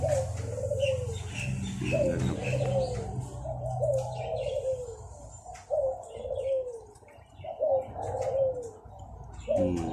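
Red turtle doves and spotted doves coo in repeated soft phrases, fairly near, with light chirps and tweets scattered between the calls.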